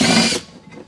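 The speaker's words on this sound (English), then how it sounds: "Make sure the drill is turned the right way." Power drill running briefly under load while backing out 10 mm bolts inside a Toyota Tundra, a dense close whir lasting under half a second, then cutting off to quiet.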